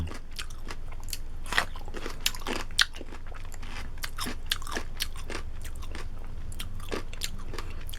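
Crunchy homemade quick refrigerator pickle bitten and chewed up close, a run of crisp crackling crunches in irregular rhythm with several sharper snaps standing out, no voices.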